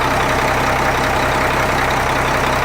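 Rebuilt engine of a Changlin PY165H motor grader running at a steady idle, a loud, dense, even diesel rumble close by with no break.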